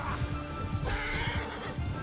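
Horses whinny loudly in Mount & Blade 2 cavalry combat, a shrill neigh rising over steady galloping hoofbeats and battle noise, close and continuous without talk.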